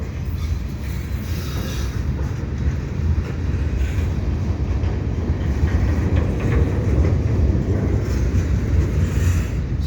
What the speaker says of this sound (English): Sounds like another train is coming, actually.